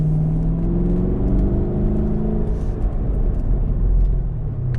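A 2017 Chevrolet Camaro Convertible 2SS V8 rumbles steadily with a deep, continuous engine drone and slight rising revs, close and loud throughout with no talking.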